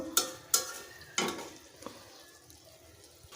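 Pieces of katla fish being sautéed in a pan with garlic paste, a faint sizzle punctuated by a few loud scrapes and knocks of a spatula early on, then quieter.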